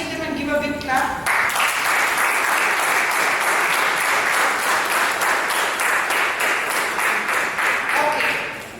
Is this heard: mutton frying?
no